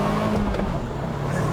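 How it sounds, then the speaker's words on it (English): A manual 2021 Ford Bronco 2-door in 4x4 auto launches from a standstill, its engine a loud, dense, continuous roar up close, steady throughout with no pauses. "I want to try just doing a quick little launch with it and see what I can get 0 to 60 in this vehicle"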